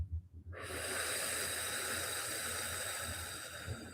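A slow, steady exhale during a guided breathing meditation, a soft continuous breathy hiss that swells in after a brief pause and holds evenly for several seconds, close and alone.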